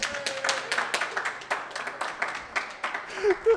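An audience clapping at a live comedy show: scattered, moderately loud claps form thin applause across the clip, tapering off, with a brief voice near the end.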